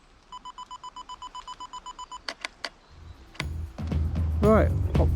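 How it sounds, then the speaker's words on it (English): A camera's 3-second self-timer beeps in a steady run of about ten short, evenly spaced electronic tones, followed by a few sharp clicks, then loud outdoor rain and wind noise at a New Forest landscape shoot in autumn. "3-second timer."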